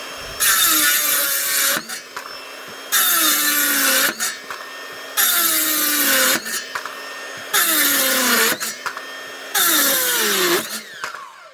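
A Makita power saw cuts through a wooden board five times, each cut a loud close whining buzz lasting about a second and a half with the pitch dropping as it bites, separated by short pauses.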